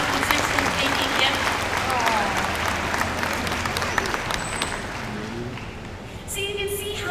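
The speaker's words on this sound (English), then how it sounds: "Let's give him a big round of applause." Spectators at a dolphin water show break into a big round of applause. Broad clapping starts strong, then tapers slightly, with crowd voices and a few tonal calls mixed in.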